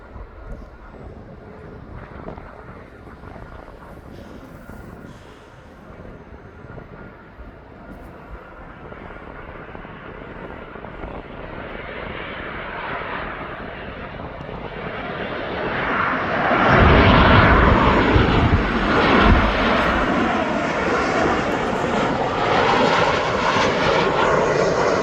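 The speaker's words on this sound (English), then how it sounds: "That's a Ryanair from Belfast." A Ryanair passenger jet from Belfast flies at East Midlands Airport, its engine roar building steadily from a distant rumble to a loud, broad jet noise with some wind buffeting on the microphone.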